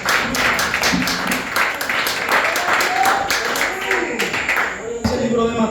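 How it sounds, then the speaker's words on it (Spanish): A church congregation applauds in a sustained, dense patter of clapping, with a voice audible alongside. "Den un aplauso al Señor Jesucristo."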